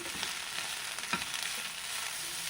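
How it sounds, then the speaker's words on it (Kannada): A coriander leaf mixture for thokku fries in a pan with a steady, gentle sizzle and occasional light spatula scrapes, close but quiet, with no voices. "ಈಗ ಇದೆಲ್ಲ ಚೆನ್ನಾಗಿ ಫ್ರೈ ಮಾಡ್ಕೊಬೇಕು"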